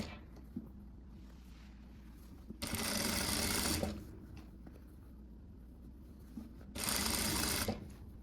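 Sewing machine stitching a fabric blouse in two separate bursts of steady whirring, each about a second long, with quiet pauses between and no talk.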